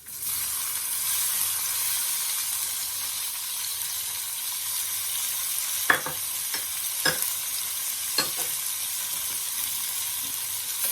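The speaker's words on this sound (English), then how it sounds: "Now I'm adding my sweet peppers." Sweet peppers sizzle in a hot pan while cooking curry shrimp in coconut milk. A constant bright frying hiss is broken by a few soft clicks of a utensil stirring, with no talking.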